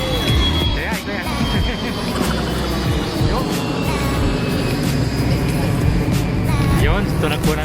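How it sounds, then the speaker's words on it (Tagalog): The engine of a Skyjet airliner flying from Manila to Busuanga, Palawan, fills the cabin as a loud, steady, dense roar throughout, with talking going on beneath it. "Yun, tunog po ng airplane."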